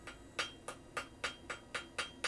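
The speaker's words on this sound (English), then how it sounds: "keep it moving, otherwise you'll end up with a flat spot. So hammer and move." A hammer strikes a hot iron handle on an anvil in eight steady, ringing blows at an even pace. Each hit is sharp and close in a quiet forge setting.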